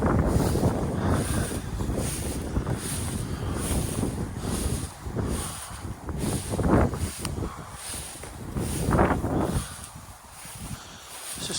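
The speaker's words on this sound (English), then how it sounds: "A little bit windy though." Steady wind gusting across an outdoor microphone beside an old ivy-cleared folly building, a continuous roar that swells and eases in waves with no voices.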